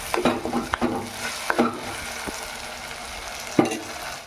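Chicken stir-frying in a pan, a steady close sizzle broken by several sharp scrapes and clatters of a spoon against the pan, with no voices.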